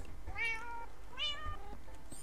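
A Minecraft cat meows twice in the video game, two clear rising-falling meows close up and alone over a low background hum.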